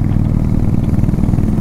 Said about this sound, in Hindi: बाइक बढ़िया चल रही है वैसे।